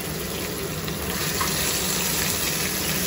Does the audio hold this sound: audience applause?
no